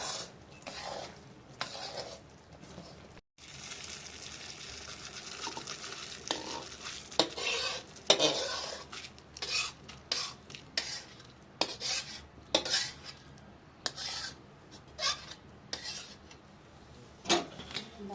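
A ghee laddu mixture of cooked wheat dough balls is stirred in a pan, with repeated scraping and clinking strokes of a spoon against metal over a soft background sizzle, irregular and close.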